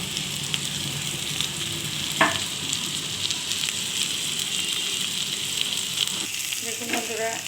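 Prawns and onions frying in oil, a steady, moderately loud sizzle with a few sharp utensil knocks and stirring scrapes, one near the start and more toward the end.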